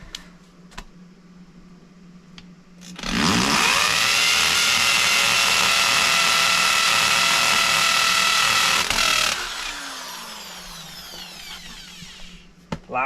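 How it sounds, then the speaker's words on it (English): A screw gun drills a screw into a basement concrete wall, a loud steady whine lasting several seconds that winds down and trails off, with faint clicks before and after. "I'm gonna take my screw gun, screw into it."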